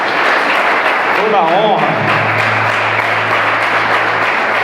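Church congregation applauding during a worship service, dense steady clapping throughout while someone speaks over it and a sustained low keyboard note comes in partway.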